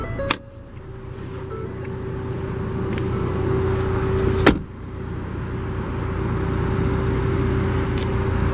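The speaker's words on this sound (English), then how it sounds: "unlock all the doors, driver's side automatic window down." The driver's-side power window on a 2016 Ford Fiesta ST hums steadily downward inside the car, bracketed by sharp clicks and a clunk near the end, with a low idle drone underneath.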